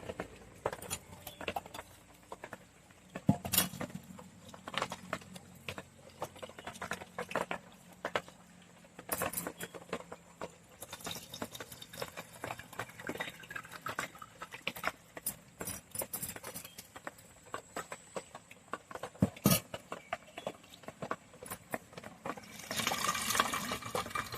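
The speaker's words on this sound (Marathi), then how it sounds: "पहिल्यांदा आम्ही दोन वेळा तांदूळ स्वच्छ धुवून घेऊया" Rice is washed in water in a bowl, with irregular swishing, sloshing and pattering splashes, sharp clinks and handling noises over about twenty seconds, close and without speech.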